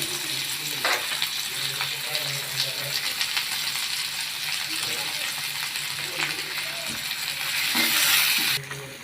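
Chopped onion fries in a pan with papaya after fish was fried in it, making a steady loud sizzle with occasional metallic clinks and stirring, growing briefly louder near the end.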